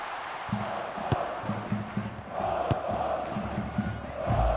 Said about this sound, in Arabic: الجماهير ستنفجر بالجنون وبحق